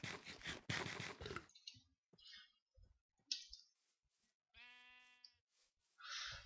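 A blocky sheep in Minecraft hardcore mode lets out a single nasal bleat amid scattered clicks and short game sounds. The cry is clear and close, with quiet gaps between the surrounding noises.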